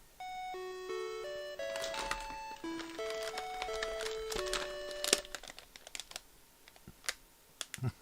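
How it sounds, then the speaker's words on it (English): A Panasonic door chime, used as the Family Mart convenience store jingle, plays its bright melodic tune of clear stepped notes for about five seconds, followed by scattered clicks and keyboard-like tapping. "So that happy Panasonic door chime that has become the Family Mart Family Mart identifying jingle."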